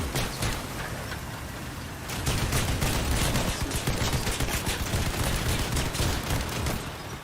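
Rapid, heavy shotgun and weapon fire in the Crossout vehicle combat game on Xbox, a loud continuous barrage that intensifies partway through, with only faint voices underneath.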